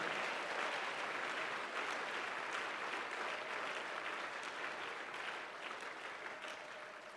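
Sustained crowd applause from a congregation at a mass prayer service, acclaiming the Lord; dense, steady clapping throughout, easing slightly toward the end.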